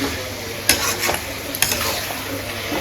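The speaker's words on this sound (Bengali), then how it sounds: "আমি লবণ দিয়ে ভালো মতো কষাই নিই, মিলাই নিই" Desi chicken being stirred and sautéed with salt in a pan gives a steady sizzle, with spoon scrapes and a few sharp knocks against the pot, close up.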